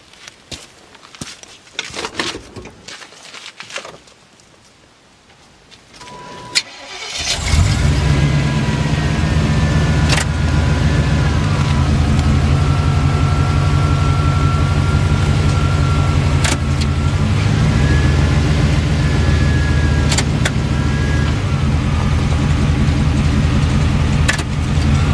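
A car with tire chains fitted starts up after some handling noises and rolls forward, its engine running as a steady, loud, close drone for about eighteen seconds with faint rattles over it.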